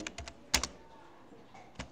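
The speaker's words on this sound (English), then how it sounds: "I'm going to type the word function" Keys clack on a computer keyboard in a handful of separate, close taps, with one sharper double stroke in the middle and short pauses between keystrokes.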